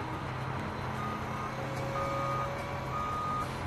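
A trash truck's reversing alarm sounds steady, repeated beeps over a constant engine and street rumble, fairly close and with no talking.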